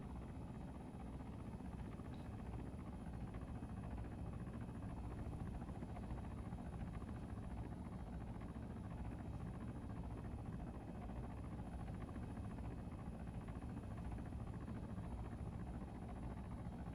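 Steady helicopter rotor and engine drone while hovering in a military video game, a constant even rumble filling the whole stretch with no variation and no voices.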